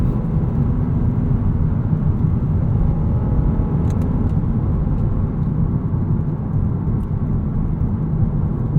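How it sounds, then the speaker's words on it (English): Steady low engine rumble and road noise inside a moving 2023 Lexus IS 500 F Sport Performance, with a faint intermittent rattle from the cabin. "Really hear that rattle. Yeah, there's a bit of a rattle over here."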